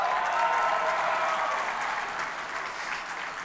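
Members of parliament applaud in a chamber, producing dense, steady clapping that holds close and full before tapering slightly toward the end.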